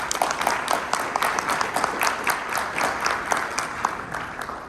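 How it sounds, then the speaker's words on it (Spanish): Audience applause at a university panel discussion, a moderate round of sharp, dense clapping that stays steady and fades slightly at the end. "Un fuerte aplauso."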